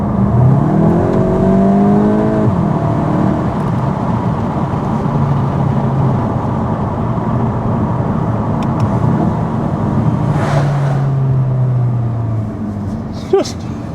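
A 2024 Volkswagen Golf GTI drives on the road with a steady engine drone and tire roar heard from inside, the pitch rising early as it accelerates, then holding and easing off, with a brief thump near the end.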